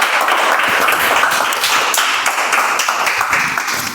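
A meeting audience claps in dense, continuous applause, loud and close, holding steady for a few seconds with no talking over it.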